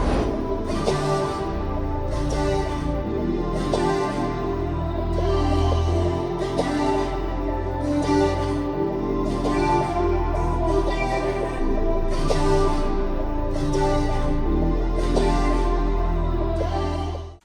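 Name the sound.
pitched-down vocal sample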